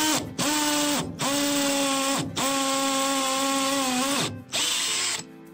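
A cordless drill bores into a wall in four or five bursts. Each one is a loud, steady motor whine with sharp harmonics, close up, and short pauses separate them. No voices are present.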